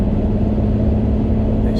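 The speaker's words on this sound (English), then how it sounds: "The noise as well, I don't know how well you can hear it over the wind noise, but that straight 6" A BMW 530d E60 straight-six diesel while driving, heard from inside the cabin as a steady, continuous low drone mixed with road and wind noise, with no sharp revving.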